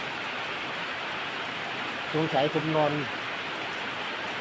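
Rain falls steadily outside during a midday rest, a soft continuous hiss throughout, while someone says a few words briefly in the middle.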